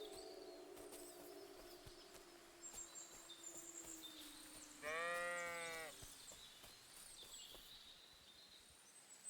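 A sheep bleats once in the video game Kingdom Come: Deliverance II, a wavering drawn-out cry over a quiet outdoor backdrop with scattered birdsong.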